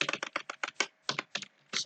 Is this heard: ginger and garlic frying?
no